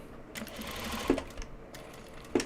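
A sewing machine stitches a welt pocket on a Japanese fabric bag in short, quiet bursts of rapid needle clatter, with small clicks and a pause between runs. It is close and soft, and no one speaks.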